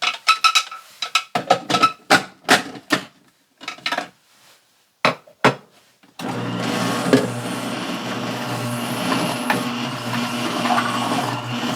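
An electric juicer pressing cranberries and apples: a few sharp clatters and knocks from loading the fruit, then the motor starts and runs with a steady loud grinding whir to the end.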